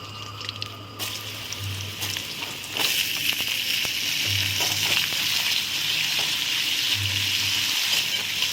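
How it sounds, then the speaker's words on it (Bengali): Potatoes go into hot oil already tempered with bay leaf, dried red chilli and cumin, and the frying sizzle swells noticeably partway through, continuing as a close, steady hiss with occasional low hum and no voices. "সামান্য একটু নেড়ে আলুগুলো দিয়ে দেব ভাজার জন্য"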